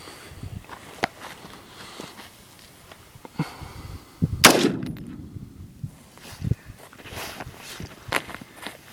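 One sharp, loud AR pistol shot at targets rings out midway with a ringing tail, among a few softer clicks and thumps on an outdoor range.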